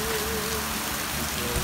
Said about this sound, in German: Es verabschiedet uns mit einem richtig schönen Regenschauer.